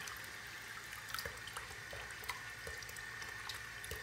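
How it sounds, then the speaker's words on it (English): A kitchen faucet runs a small stream of water, a faint, steady trickle with a few soft splashes and clicks, close by and alone. "Let's just start this from my faucet here a little bit."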